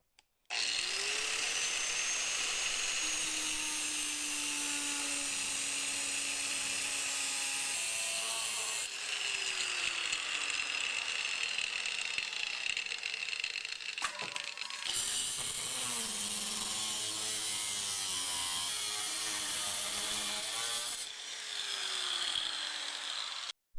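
A power cutting tool bites into rusty sheet metal on a Mazda Miata quarter panel, a loud, continuous whining grind with pitch swoops, broken by brief pauses and restarts.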